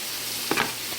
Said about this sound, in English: don't forget about your carrots and your potatoes. Stir them up. You gotta keep them moving.